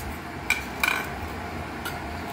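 A spoon or utensil clinks against a metal bowl while maida flour is mixed with salt, baking soda and chilli powder: a few sharp close taps over a quiet steady background, no voices.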